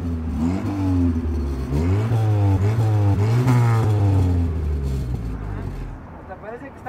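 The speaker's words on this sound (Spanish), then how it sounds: "De buen gusto el escape, ¿eh?" Nissan Tsuru car engine revving through its exhaust, several rising and falling revs up close, with people talking over it.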